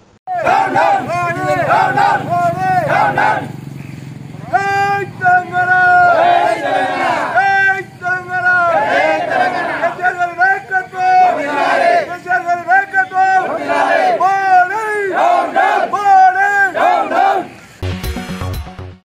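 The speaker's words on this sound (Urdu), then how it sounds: "گرام پنچایت کے دفتر کے حدود میں یہ احتجاج کیا گیا اور حکومت کے خلاف نعرے بازی کی گئی۔" Protesters chant slogans against the government at a gram panchayat office, joined by TRS leaders and local workers. Loud, massed voices rise and fall in repeated bursts for most of the stretch, then drop sharply near the end.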